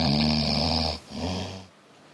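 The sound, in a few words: woman snoring during sleep, recorded before the experiment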